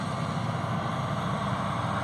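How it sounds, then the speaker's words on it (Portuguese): A tractor passing close behind an outdoor speaker, heard as a steady, loud low engine rumble with broadband noise, constant throughout with no speech over it. "Tem que falar alto, que passando um trator aqui atrás"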